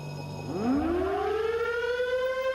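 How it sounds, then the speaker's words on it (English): A test-stand siren before a rocket engine firing winds up from a low growl to a steady, loud rising wail that holds, with no voices. "Siren on."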